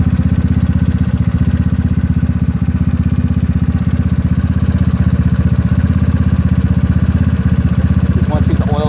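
A GY6 scooter engine fitted with a PWK 30mm carburetor idles steadily at close range, a continuous low pulsing drone with light mechanical clatter running unchanged throughout.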